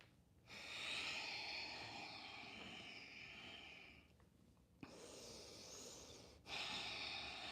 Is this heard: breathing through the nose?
yes